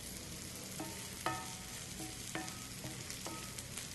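Shallots, garlic and crushed red chilies sizzle steadily in a pan, with a soft continuous frying hiss broken by several light clinks and scrapes of stirring.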